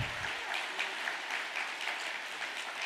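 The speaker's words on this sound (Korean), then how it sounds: "감사의 박수를 부탁드립니다." Steady applause of thanks from a gathered congregation at a Korean religious meeting, a dense even wash of many clapping hands held at the same level throughout.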